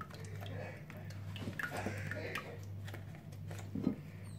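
Spoon or whisk clinking and scraping in a bowl while mixing cream into quiche filling for a spinach quiche, with irregular ticking contacts over a steady low hum and some background talk.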